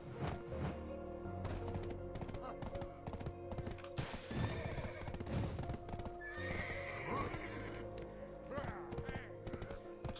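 In the online game Black Desert Online, a horse neighs and its hooves clip-clop in uneven bursts, with louder flurries in the middle, alongside steady game music and ambience.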